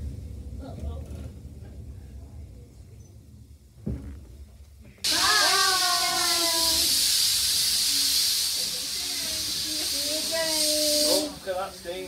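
Steam hisses loudly from a steam locomotive on the East Lancs Railway, a sudden broad roar bursting in midway and holding for several seconds before cutting off, with children and adults chattering excitedly around it.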